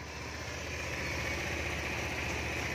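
Honda Air Blade Thai Fi 2009 scooter engine idling close up, a smooth, steady low hum with a soft even rhythm and no talk over it.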